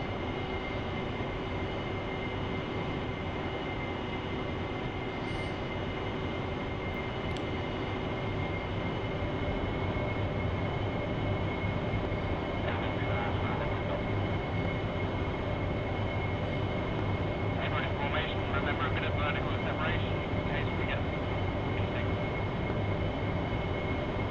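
An AV-8B Harrier's jet engine drones at high speed in the DCS World flight simulator, a loud constant whine and roar with no change in level and no voices.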